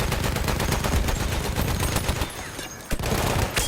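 A machine gun in Battlefield 1 fires long sustained bursts of rapid, loud shots that cut out briefly near the end before resuming.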